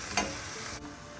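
Chicken keema frying in a pan over medium heat, a steady close sizzle with a brief scrape of stirring near the start and no talk.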